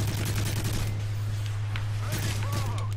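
Rapid bursts of gunfire from a first-person video game shooter, a player using an ACR rifle, crackle in the first second over a constant low hum, with faint game effects and a voice talking later.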